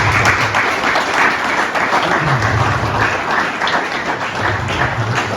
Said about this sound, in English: a big round of applause and thank you to Michael Fortune tonight as well.